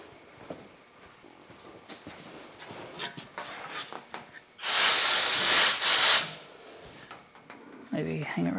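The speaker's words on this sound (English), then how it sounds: "got a blower nozzle at the machine as well" Compressed air blower nozzle at a shop air system hissing in one loud, steady burst of about a second and a half, standing well above quieter workshop handling noises before and after.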